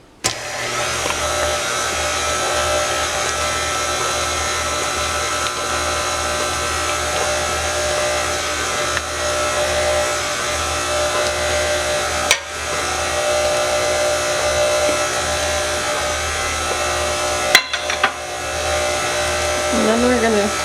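An electric hand mixer beats vegan birthday cake batter as flax egg is added a spoonful at a time, a steady motorized whir running continuously at close range, with a brief pause and a few small bumps near the end.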